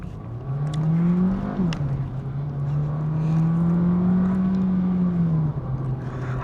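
A Volkswagen Virtus GT with a 1.5 TSI engine and DSG gearbox accelerates hard in manual paddle-shift mode, the engine note climbing steadily, dipping briefly at an upshift, then rising again, heard loud and close from inside the cabin.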